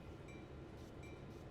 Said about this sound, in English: You can see the brakes are really effective on these.